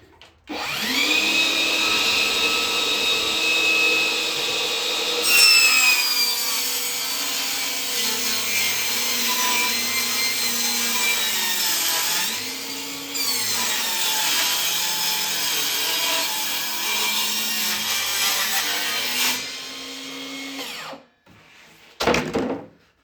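A power sander runs steadily against a wooden arcade cabinet panel for about twenty seconds, with a continuous whining drone that shifts pitch as pressure changes, then cuts off near the end before a brief knock.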